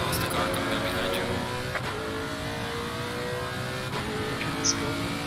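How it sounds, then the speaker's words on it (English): Engines of a faster race car closing in from behind in a racing video game, a steady mid-pitched drone that holds constant under the player's voice. "Faster car coming up behind you."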